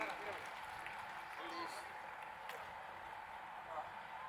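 An audience at a stage event for an aid distribution applauds as a student is invited up, giving a steady, dense wash of clapping that holds evenly throughout without a clear start or finish.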